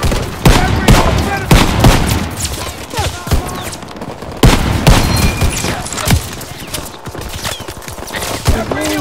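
Heavy gunfire and explosions in the Call of Duty WWII game's Battle of the Bulge, dense loud bursts and booms nearly continuous throughout, with shouted voices mixed in.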